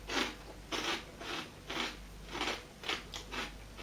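Close-up chewing of Mr Porky's pork crunch snack, a steady series of about seven loud, crisp crunching bites in a regular rhythm, with no speech.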